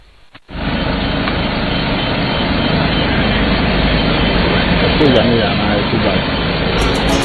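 A plane departs Accra International Airport, its loud, steady engine roar starting abruptly and holding for several seconds, with voices faintly underneath.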